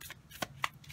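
A few quick, close snaps and riffles of animal spirit cards being shuffled, soft and sharp in a brief run.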